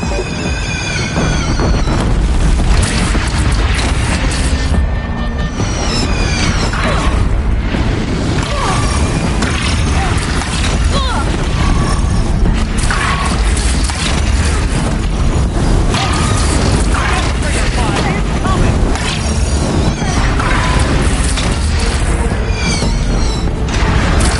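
Enemy machine fire pounds a platform in the Horizon Zero Dawn video game, a dense, loud barrage of booms, crashes and mechanical clatter running unbroken throughout, with brief high whirring bursts layered over the din.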